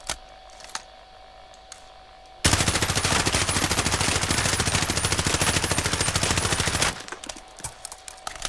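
An M4A1 assault rifle firing in Call of Duty Warzone: after quiet handling clicks, a long, rapid, steady automatic burst of about four and a half seconds, loud and close, then a few scattered clicks, with no talk.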